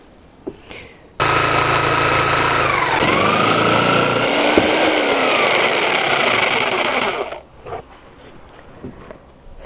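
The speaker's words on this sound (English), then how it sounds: "I'm going to plug it in and we're going to make a cut" A corded jigsaw makes a 30-degree bevel cut, starting abruptly after a faint click and running loud and steady for about six seconds, its whine shifting in pitch as the blade bites, then stopping and leaving brief handling noises.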